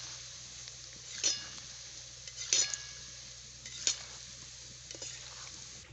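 A cashew biscuit mixture sizzles steadily as it fries in a pan, with a few sharp clinks and scrapes of a utensil stirring it at moderate volume and no talking.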